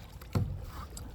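A boat paddled across a choppy lake in 20-mile-an-hour winds, giving a single close splash of a paddle stroke over a low, steady wind rumble.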